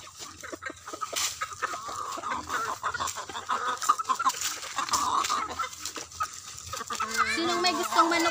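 Backyard chickens cluck and crow steadily at afternoon feeding time, a busy flock close by, with a voice speaking briefly toward the end.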